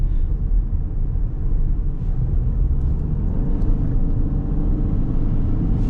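Steady, loud low rumble of a 15-year-old car on the move, engine drone blended with continuous road and tyre noise heard from inside the cabin, with no talking.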